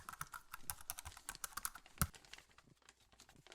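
Rapid typing on a computer keyboard, a steady run of light, close key clicks with one heavier strike near the middle, then slowing to sparser taps; no talking.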